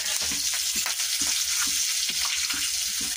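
Green chilies and ginger fry in a hot pan with a bright, continuous sizzle, while a utensil scrapes and stirs in a quick, regular rhythm close by.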